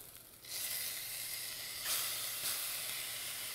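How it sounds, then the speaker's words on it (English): Pureed ginger and garlic hit a hot pan for baingan bharta and burst into a loud, steady steaming sizzle that swells briefly partway through and keeps hissing on its own. "When you add it, you have to be really careful because since it has water in it, it's going to steam up quite a bit and it could splatter."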